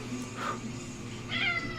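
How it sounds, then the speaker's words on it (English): A male house cat meows twice in a room, with a short cry near the start and a brighter, longer meow toward the end over a low steady hum. "My cat's having a moment too."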